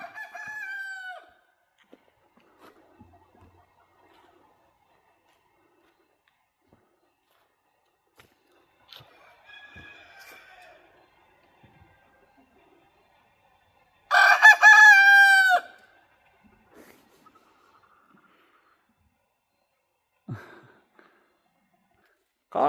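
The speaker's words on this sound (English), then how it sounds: "caught him crowing." Roosters on a homestead crowing, one loud nearby cock-a-doodle-doo among a few fainter, more distant crows and clucks in otherwise quiet surroundings.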